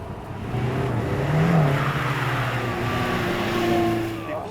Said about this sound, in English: So what's it like to drive a Caterham on a track?